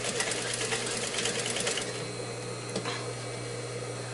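A domestic sewing machine runs steadily while stitching a jumpsuit seam, a fast even mechanical whir with a rapid needle patter, close and fairly loud, slowing slightly partway through.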